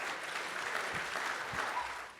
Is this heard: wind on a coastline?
no